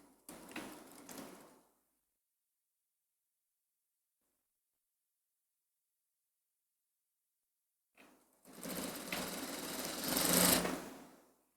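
A sewing machine stitches the sleeve of a kurti in two close, loud bursts: a short run at the start, then a long stretch of silence, then a longer run that builds and stops.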